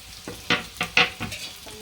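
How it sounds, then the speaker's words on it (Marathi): Finely chopped onion tipped into a pan of hot oil with plenty of minced garlic, followed by a few sharp scrapes and clatters of stirring over a soft background sizzle, with no voices. "मी टाकते आता एक बारीक चिरलेला कांदा"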